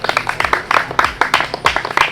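A few people clap at the finale of a competition show, with sparse, uneven claps close by over a brief stretch.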